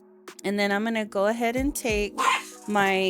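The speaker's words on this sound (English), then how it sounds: "sorry about my dogs in the background, they are barking." Several dogs bark in the background at home, sharp repeated yips and barks overlapping a woman's close, steady speech.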